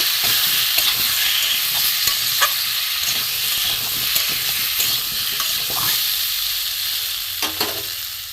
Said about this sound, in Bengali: আদা জিরে গুঁড়ো ধনে গুঁড়ো দিয়ে আমি এটা কষে নেবো